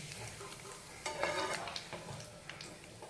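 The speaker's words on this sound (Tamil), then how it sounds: "இப்போ நம்ம அதே பாத்திரத்துலேயே கருவேப்பிலையை கொஞ்சம் போட்டு தாளித்து" Curry leaves tempering in hot oil in a pan, a steady close sizzle and crackle that swells briefly midway, with light stirring scrapes alongside.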